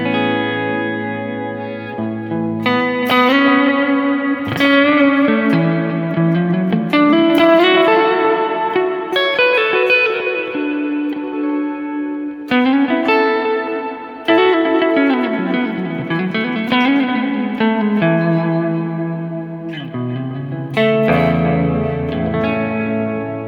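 An electric guitar plays a slow melodic line drenched in long reverb and echoing delay, notes blurring into a washed, lingering tail.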